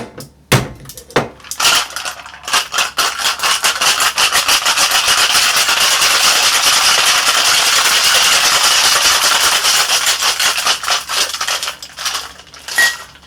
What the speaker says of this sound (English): Let's get some ice for our shaker and let's give this bad boy a shake.